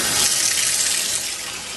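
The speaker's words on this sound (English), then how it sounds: "I'm going to add about 2 cups of water so that it doesn't stick" About two cups of water pour steadily into a pressure cooker pot for homemade tamales, a close, continuous splashing hiss with no voices.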